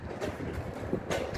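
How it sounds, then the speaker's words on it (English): Wind buffets a phone microphone in uneven rumbling gusts, with two stronger bursts of hissing noise. "It's a windy day, we're on my phone, but we'll live."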